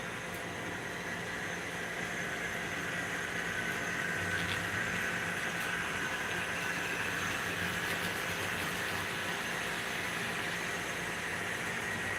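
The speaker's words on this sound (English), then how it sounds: "Okay, it's that grain train." Model grain train rolling along a club's model railroad layout, a steady low rumble with faint clickety-clack running continuously for several seconds, moderately distant and alone.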